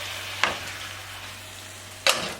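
Sliced mushrooms sizzle steadily in a frying pan, a soft continuous crackle with a low hum beneath, broken by two sharp stirring scrapes near the start and end.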